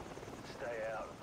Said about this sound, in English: Watch out for the helicopter!